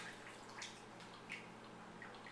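Tea poured from a porcelain gaiwan into a pitcher, a soft steady trickle of liquid with faint splashes, close and quiet, with no talk.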